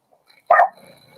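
A dog lets out a single sharp bark, close by, followed by faint background noise.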